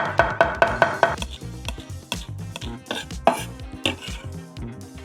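A kitchen knife mincing crushed garlic on a cutting board, with rapid close chopping taps at first, then irregular heavier knocks and scraping as the blade works through the pile.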